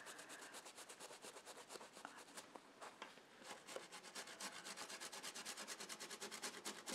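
Sewn chenille fabric being scrubbed hard with a brush in quick, rhythmic back-and-forth strokes, a soft, close rasping that keeps going without pause; no voices.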